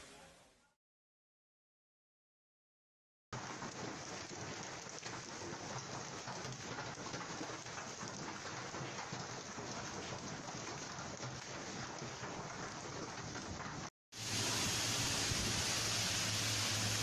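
After a few seconds of silence, torrential rain hisses steadily and faintly during a violent storm in Rome, then cuts abruptly to a louder, brighter downpour with a low rumbling undertone.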